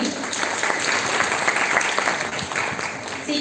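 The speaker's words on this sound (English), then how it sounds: "Can we please have a huge round of applause for the team?" An audience at a college forensic investigation workshop in Delhi bursts into dense, steady applause, many hands clapping at once for a few seconds.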